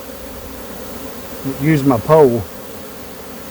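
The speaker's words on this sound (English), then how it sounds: "I can show you how nice and calm and content the bees are in here." Calm honeybee swarm gathered at head height, a low steady hum under the loud mid-clip voice of someone speaking close by.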